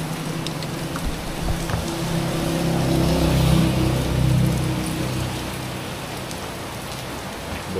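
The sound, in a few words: morning rain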